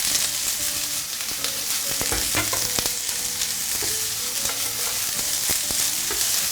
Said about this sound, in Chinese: 好，我们开这个大火去炒它